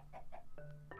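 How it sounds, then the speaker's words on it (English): Turkey hen from a Minecraft PE farming mod makes a few short clucking calls, two soft gobbling clucks followed by two sharper, more tonal squawks, close and clear over a faint steady background hum. "Then we have the turkey hen"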